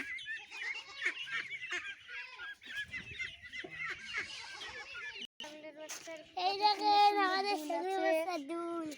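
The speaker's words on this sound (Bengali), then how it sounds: "অনেকগুলো হাঁসের বাচ্চা" A flock of many small ducklings peep and chirp in shrill overlapping calls close by, continuing throughout.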